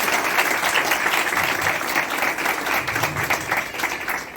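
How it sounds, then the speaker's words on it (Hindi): A congregation at a Palm Sunday sermon gives loud, sustained applause, an even roar of many hands clapping throughout. "आइए एक बार फिर खुदावंद के जलाल के लिए जोरदार तालियां।"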